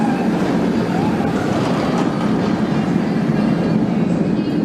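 Chupacabra, a Batman the Ride–style roller coaster, sends its train out of the station with a steady, loud rumble and rattle of wheels that holds evenly throughout.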